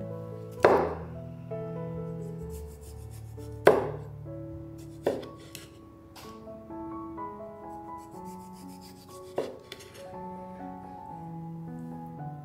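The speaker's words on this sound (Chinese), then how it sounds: "番茄去蒂头后切片" A knife slices de-stemmed tomatoes on a cutting board while preparing a vegan tofu and cheese toast; a handful of sharp, widely spaced cuts stand out over soft background music.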